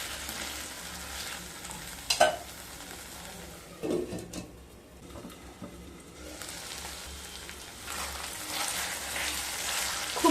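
Fried potatoes sautéing with spices in a pan for a papad curry, a steady close sizzle with a few sharp scraping stirs, one louder clatter early on and the frying growing denser toward the end.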